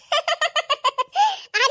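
A person imitates a rooster crowing, making a quick run of eight short clucking syllables, then a drawn-out crow and a final burst, loud and close with no other sound behind it.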